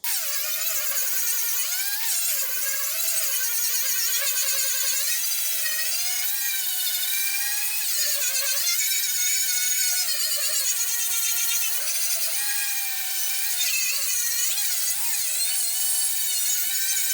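A power tool strips body filler from a 1962 classic car fender, a loud continuous whirring grind whose pitch dips and rises repeatedly as the load changes.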